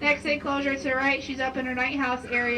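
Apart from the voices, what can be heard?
No everyday noises stand out.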